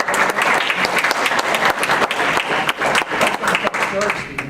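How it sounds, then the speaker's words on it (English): An audience gives a speaker, Dr. Clark, a hearty round of applause, many hands clapping loudly and continuously with some pulsing swells, fading toward the end. "Good round of applause for Dr. Clark"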